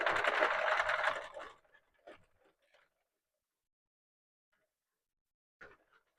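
A Sentro knitting machine cranked by hand gives a loud, steady mechanical whirring clatter for about a second and a half, then stops, leaving near silence with a few faint clicks and taps.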